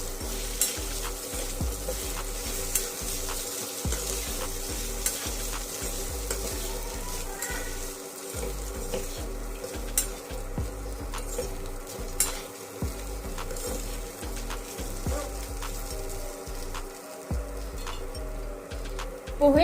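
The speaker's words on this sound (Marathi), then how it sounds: "पोहे घालून झाल्यानंतर त्याला छान असं परतवून घेऊ।" Poha fried and stirred in a pan for kanda poha, a continuous sizzle broken by steady scraping of the spatula, close and alone with no voices.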